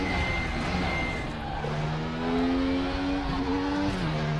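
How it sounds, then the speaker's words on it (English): Opel Calibra DTM race car engine in RaceRoom at the Nürburgring, a steady loud drone with rising and falling harmonic pitch as revs climb through the gears, continuous and close throughout. "This is where the engine feels a bit gutless."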